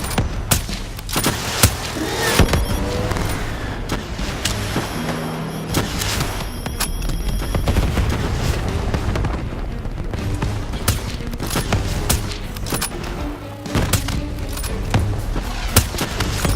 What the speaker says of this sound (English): Javelin missiles incoming!